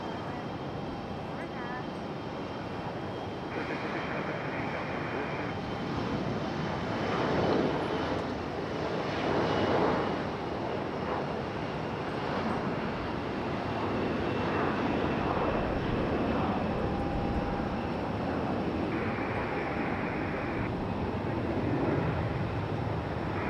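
A Continental Airlines airliner roars at Raleigh-Durham International Airport, a broad steady engine rumble held throughout at moderate distance while someone talks over it.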